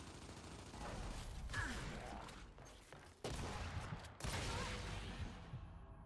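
Boomshot explosions and gunfire in a Gears 5 ranked Control match, a dense continuous roar of blasts with sharp bursts near the middle and just after, loud and close throughout.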